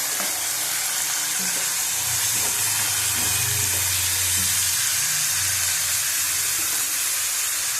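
Pieces of lote, or Bombay duck fish, fry in hot oil with a dense, steady sizzle and hiss that continues unbroken, close and loud, with no voices.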